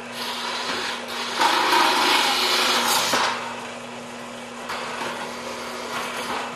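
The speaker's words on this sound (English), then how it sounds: "And just drill them out." A small power drill whines steadily as it bores out rivets on a model passenger car, rising in pitch and harshness for a couple of seconds as it bites, then easing back to a lighter spin.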